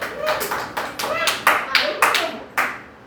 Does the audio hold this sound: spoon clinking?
no